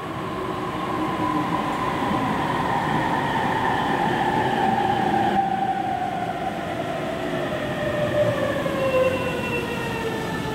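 A JR train, the last service to Ueno, rolls into Oku Station platform with a loud, steady rumble as high brake squeals glide slowly downward, continuous and close, with no voices.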